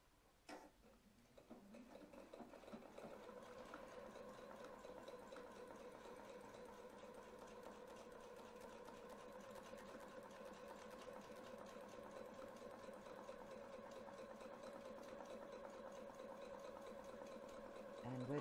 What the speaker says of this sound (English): I'm going to just stitch around this circle